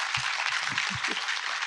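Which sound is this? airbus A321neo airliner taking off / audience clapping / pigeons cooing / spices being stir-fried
audience clapping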